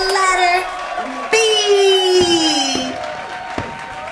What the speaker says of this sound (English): Everybody, a round of applause for the letter B.